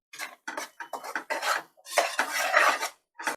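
Spoon scraping and stirring a spiced curry paste with turmeric and chili powder in a metal pan for stuffed brinjal masala curry, a series of short close scrapes and clinks, no talking.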